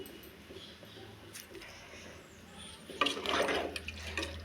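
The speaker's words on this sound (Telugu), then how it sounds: "ఈ గ్లాస్తో రెండు గ్లాసుల బియ్యం పోసాను నాలుగు గ్లాసులు నీళ్ళు పోస్తున్నాను" Water pours into a pot of rice for egg biryani, a faint trickle at first that swells into a louder, steady gush over the last second and a half, with no talk over it.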